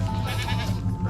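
A group of pregnant goats on a farm in Jamaica bleating close by, with overlapping wavering calls over a steady low hum.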